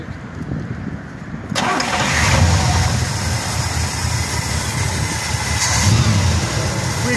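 A 1964 Buick Riviera with original dual quad Rochester carburetors cranks and catches, then settles into a loud, steady close-up idle with a brief rev near the end.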